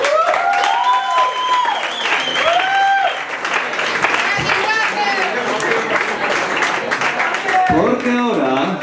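An audience applauds loudly at a rock concert, a dense, sustained wash of clapping with a voice ringing out over it.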